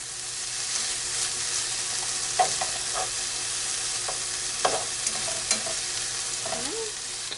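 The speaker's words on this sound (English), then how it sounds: "sausage is already cooked, so all we need to do is just warm it through." Already-cooked sausage warming through in a frying pan, with a steady soft sizzle and a few scattered scrapes and stirring clicks, close by, and no talking.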